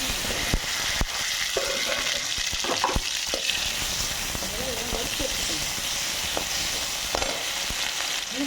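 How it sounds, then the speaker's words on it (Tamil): Onions sautéing in a pan for a sour greens (gongura) thokku give a steady close sizzle and frying hiss throughout, with occasional stirring clicks and scrapes. "இப்போ பாருங்கள், வெங்காயம் நல்லா வதங்கிட்டு பாருங்க"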